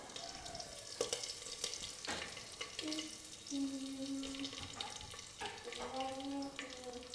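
Green chillies and curry leaves fry in hot oil in a pan for a mutton curry, giving a steady close sizzle with occasional stirring clatter and faint background voices.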